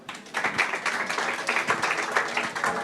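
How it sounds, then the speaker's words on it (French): Audience applause following a startup pitch at a French innovation label event, a dense steady clapping that starts abruptly and continues evenly at moderate loudness throughout. "On peut les applaudir."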